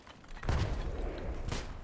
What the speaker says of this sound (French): sais pas c'était quoi cette explosion là.